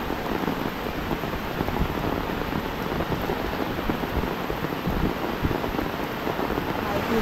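Steady rushing water flows close by near a hidden waterfall in the Konkan countryside at Chendvan, a dense continuous wash with no break.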